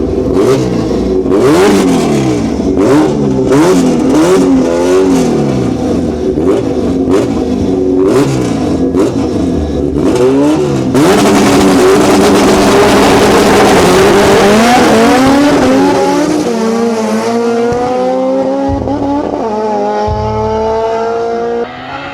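No-prep drag cars in Capiz tear down a shut-down public road, engines roaring loud and close through rapid upshifts with repeated rev surges, then a long rising wail and tire squeal before the sound cuts back.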